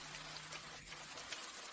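Steady rain falls on a surface as a dense, even hiss of drops, continuous and fairly close, with no speech over it.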